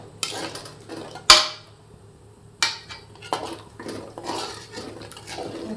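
Seven eggs with a little salt stirred around the edges of a cooking pot for egg rice, sharp metallic clinks and scrapes of a spoon against the pot at irregular intervals, close and clear.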